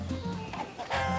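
A rooster clucks in the video game Far Cry 6, a few short throaty calls over a low game ambience, close and clear.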